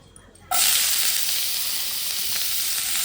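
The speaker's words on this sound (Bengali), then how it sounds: "এই লাউয়ের খোসাটা ভাজবো এমনিই ভাজবো" Bottle gourd peel sizzles loudly as it drops into hot oil in a kadai, bursting suddenly after a brief quiet and then settling into a steady close hiss.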